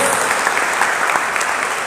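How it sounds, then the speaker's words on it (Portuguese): A church congregation applauds at a family worship service: dense, steady clapping from many hands filling the room, sustained throughout with no break. "Então forte aplauso a Jesus."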